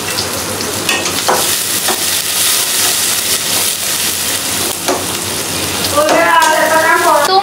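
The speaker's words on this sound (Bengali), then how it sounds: "বেশি করে একটু পেঁয়াজ কুচি হালকা ব্রাউন কালার করে নেব" Chopped onions frying in oil until light brown, a loud continuous hiss and crackle with occasional stirring scrapes, intensifying near the end.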